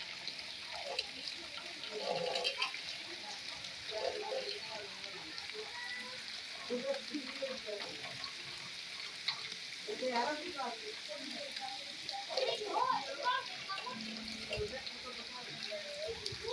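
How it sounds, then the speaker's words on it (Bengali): Very heavy rain pours steadily on homes, soaking the rooms and a bicycle, as a dense, unbroken hiss that stays loud and close throughout, while a voice talks over it. "খুব ভারী বৃষ্টি হচ্ছে খুব ভারী"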